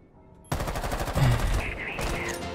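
Video game gunfire erupts abruptly after a quiet moment, a dense sustained burst of rapid shots, loud and close, with a voice faintly mixed underneath.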